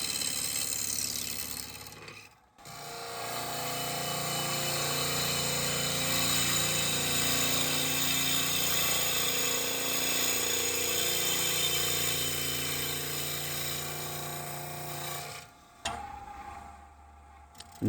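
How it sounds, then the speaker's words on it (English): A wood lathe rough-turns a block of black walnut into a cylinder, giving a continuous loud scraping whir with a steady motor drone that stops briefly near the start and again near the end. "First step is just getting this piece of walnut rough turned into a cylinder."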